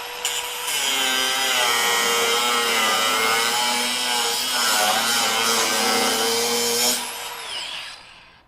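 A Metabo HPT 36V cordless angle grinder spins at its full 10,000 RPM, a loud, steady high whine held close for about seven seconds before it cuts off and winds down.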